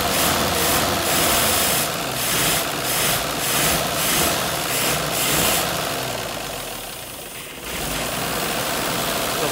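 A Frandee Sno Shu Model E snowcat engine, under restoration, runs loud and close with a rough, pulsing idle that sags and nearly stalls after a few seconds before picking back up; no talking.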